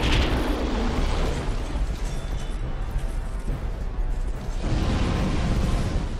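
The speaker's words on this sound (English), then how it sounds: "This fire attack he does here is probably the hardest to dodge." In the Dark Souls 2 Iron Keep boss fight, a fire attack roars as a dense, continuous blast of flame and explosive rumble, loud and sustained throughout with no speech.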